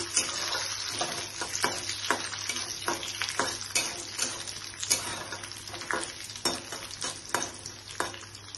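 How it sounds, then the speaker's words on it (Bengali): Cashews and raisins fry in a pan for besan halwa. A constant close sizzle runs throughout, broken by repeated stirring scrapes and clicks of a spoon against the pan, with no voices. "কাজু আর কিশমিশ দিয়েছি, দিয়ে এভাবে একটু ফ্রাই করে নিচ্ছি"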